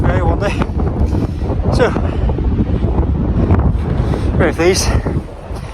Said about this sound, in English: So, hit the bridge, very windy.